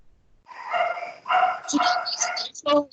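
A dog barks and yelps through someone's open microphone during an online class, a quick series of close, compressed barks and whines.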